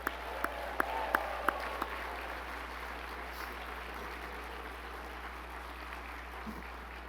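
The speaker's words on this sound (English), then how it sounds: "another round of applause for the entire 2022 Astronaut Scholar class." Audience applause at a gala honoring a 2022 Astronaut Scholar class, opening with several sharp claps before settling into a steady, moderately distant wash of clapping that tapers softly.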